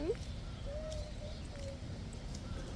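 Faint birds call in the distance, a few soft coos and chirps over a low, steady background murmur.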